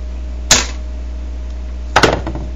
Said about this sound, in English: take your good pliers, and you go in here, you cut this wire